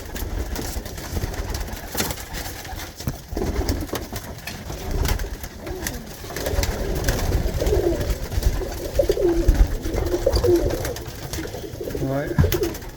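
Tippler pigeons in a loft give repeated low, soft coos, which grow denser in the second half. Mixed scuffling and faint handling noise sit underneath and a voice speaks briefly.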